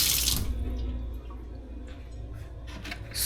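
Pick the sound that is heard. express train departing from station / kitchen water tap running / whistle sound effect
kitchen water tap running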